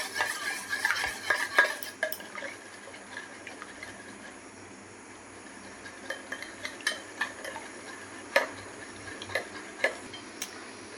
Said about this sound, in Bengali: ভালো করে ফেটিয়ে দিব।